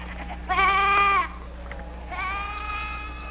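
Two wavering bleats from a sheep, close and fairly loud, separated by a short pause over a low background hum.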